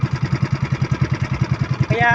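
An overheating fishing boat engine runs with a steady, rapid chugging pulse, loud and close, ending in a brief higher whine.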